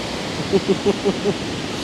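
A loud waterfall in Munnar, Kerala, pours as a constant heavy rush throughout, with a few faint voiced sounds over the top.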